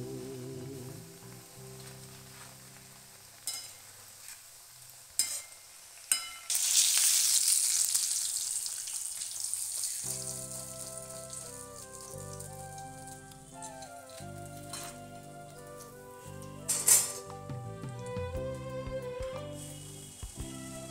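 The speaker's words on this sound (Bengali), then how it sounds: "আর কিছু ভেজে নেবো।" Pieces of chicken popcorn fry in hot oil with a steady, busy sizzle and crackle. The frying swells louder partway through, and brief clinks and bumps sound close by.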